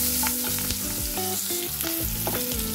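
Large chunks of onion fry in hot oil for a spicy chicken bahari, giving a steady, dense sizzle with scraping stirring strokes throughout and no voices.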